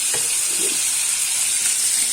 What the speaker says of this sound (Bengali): চিংড়ি মাছ ভাজা হচ্ছে